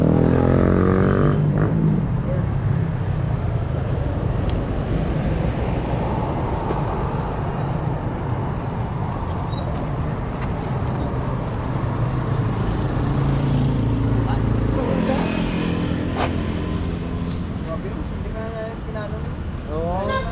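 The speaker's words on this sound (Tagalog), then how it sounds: "kasi ang dami sasakyan dito" Heavy road traffic on a busy street near the airport in Dasmariñas, Cavite, with a continuous loud wash of passing cars and engines and no talking.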